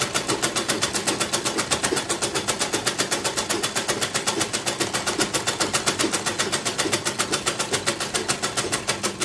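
A sewing machine stitching a shirt runs steadily with a fast, even mechanical chatter of needle strokes, close and continuous with no pauses.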